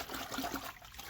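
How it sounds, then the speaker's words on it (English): Dirty water rushing through a Graco TC Pro cordless handheld airless paint sprayer during cleaning, a steady close hiss and gurgle with no pause. "Run that dirty water through it."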